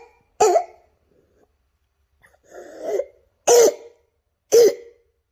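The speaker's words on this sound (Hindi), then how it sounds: "उसमें बार्किंग कफ होती है" Harsh, barking croup cough of a child with a cold: four separate cough bursts, the first alone, then a softer rasping one after a pause, followed by two loud, sharp barks about a second apart, with no talking.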